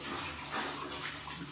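Running water pours and splashes while a dog is bathed, a steady broadband rush close by, lasting under two seconds without talk.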